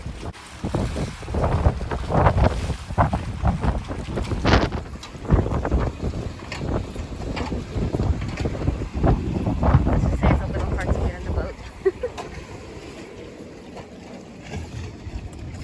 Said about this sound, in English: I think we have a storm coming in.